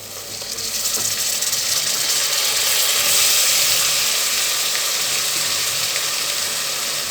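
Chopped tomatoes sauté in a pan with ginger garlic paste while cooking a fish biryani, producing a loud, continuous hiss that swells briefly and then holds steady.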